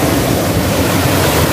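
Steady broadband rush of water at a Jamaican waterfall, constant and loud with no pauses, the roar filling the space close to the microphone.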